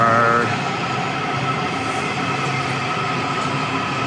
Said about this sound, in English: Just got off the train.